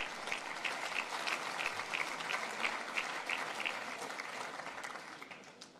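A dinner audience claps steadily in warm, sustained applause during the French Prime Minister's speech, gradually tapering off toward the end.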